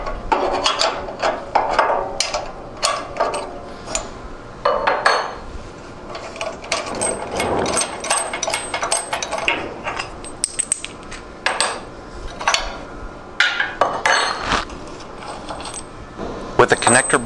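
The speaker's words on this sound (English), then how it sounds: "Using a couple wrenches, remove the connector bolt." Wrenches work a connector bolt loose from a saw, with repeated metallic clinks, clanks and ratcheting taps arriving in irregular bursts close by, while a narrator talks intermittently.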